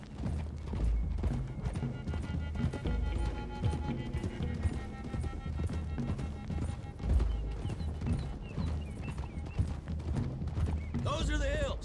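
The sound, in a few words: horses galloping in Red Dead Redemption 2 (video game)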